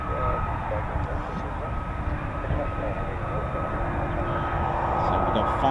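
An F-35B stealth jet, flown by Royal Navy and RAF squadrons, roars steadily as it makes a vertical landing. The loud, continuous rumble of the engine fills the whole stretch, with faint voices in the background.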